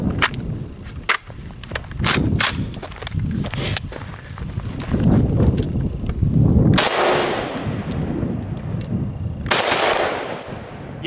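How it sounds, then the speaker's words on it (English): A Steyr AUG rifle with upgraded parts fires rapid shots outdoors, loud sharp reports with metallic clangs and rattles running through the whole stretch, broken by a brief pause, then more firing. "let's do some shooting"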